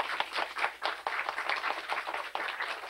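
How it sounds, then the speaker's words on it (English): An audience at an elementary school show claps for the performers: dense, steady applause from many hands, fairly distant and moderate in volume, lasting throughout with no talk. "let's give all our performers one more round of applause"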